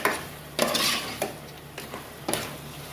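A spoon stirs fish curry with masala in a pot, producing several separate scraping clinks and brief sizzling bursts over a quiet background hum.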